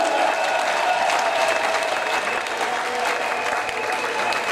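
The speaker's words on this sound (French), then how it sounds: "acclamez fortement Seigneur" A congregation at a prayer marathon applauds the Lord, with dense, loud, continuous clapping from a large crowd throughout.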